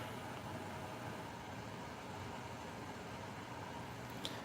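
A bus running an engine taken from a fire truck gives off a faint, steady low hum in the background, with no talking.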